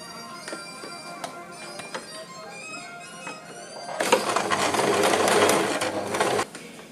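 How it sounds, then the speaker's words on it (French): A sewing machine stitching a seventeenth-century costume piece gives light ticking needle strokes at first, then settles into a steady, loud, close mechanical whir for a couple of seconds before stopping abruptly. "je vous retrouve tout de suite pour la couture de ce fameux élément"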